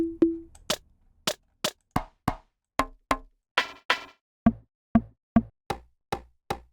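A steady series of sharp, dry knocking hits with woody, clicky tones, roughly evenly spaced, each decaying quickly into silence.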